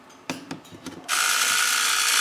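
A small battery-powered device motor, rewired to run from a power supply or transformer, switches on after a few handling clicks and then runs with a steady, loud, close mechanical whir until the end.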